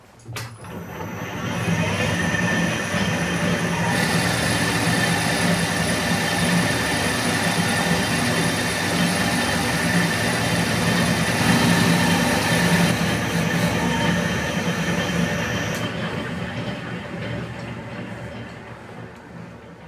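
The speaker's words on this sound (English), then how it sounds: "So adjust those change gears, are a bit noisy." A Hercus metal slotter runs steadily with its slightly noisy change gears adjusted, giving a continuous mechanical whir and rumble with a high whine, loud and close, holding level for most of the time before easing off near the end.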